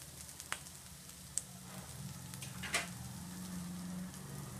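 Dried prawns and onions fry in a pan, a quiet continuous sizzle with a few soft taps and scrapes of stirring, a low hum beneath it.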